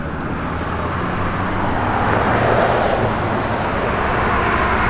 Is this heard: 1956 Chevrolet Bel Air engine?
yes